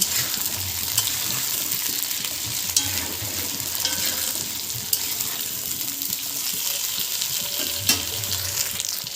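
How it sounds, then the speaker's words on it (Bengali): Potatoes frying in oil in a pan for fish curry, a steady busy sizzle with scattered pops and crackles and occasional stirring knocks, close and moderately loud throughout. "সবগুলো আলু দিয়ে দিয়েছি। এবারে লাল করে ভেজে নেব।"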